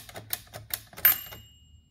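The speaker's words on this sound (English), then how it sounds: "when I press the spacebar, the carriage of the typewriter go on the contrary also the little bell of the margin is on the other side" A 1924 Gundka 5 typewriter, keys striking as the carriage shifts, with a sharp margin bell ring near the end; close, quiet mechanical clatter with no talking.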